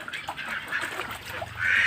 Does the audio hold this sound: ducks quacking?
yes